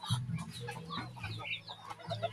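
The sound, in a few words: chickens clucking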